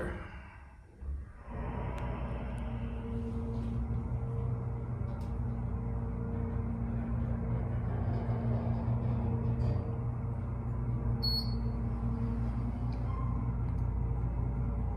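The motor of a worn KONE hydraulic elevator in a department store at a mall starts after a brief pause, then settles into a steady low hum and rumble that runs on evenly, heard nearby.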